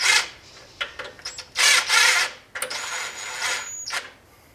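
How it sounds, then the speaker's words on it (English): A bolt being run in on the PTO clutch of a John Deere 757 ZTRAK mower, heard as bursts of ratcheting and squeaky metal rasping separated by short pauses, close up. "I'm just running the bolt in."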